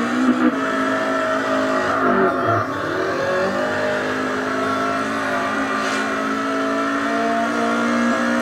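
Loud, continuous engine revving of a drifting car in CarX Drift Racing 2, a sustained high-pitched whine with slight pitch dips and a brief tire-squeal texture, no voices.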